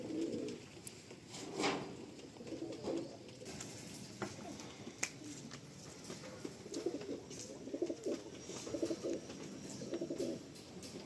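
Pigeons coo in soft, repeated low phrases, several birds close by with a few sharp clicks and chirps mixed in over a quiet background.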